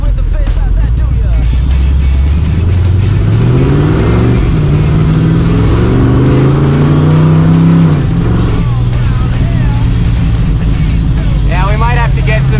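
A Nascar-inspired Chevrolet C10 truck revs hard as its tires spin, with a loud, close engine climbing and dropping in pitch and tire squeal near the end. Someone talks over the engine.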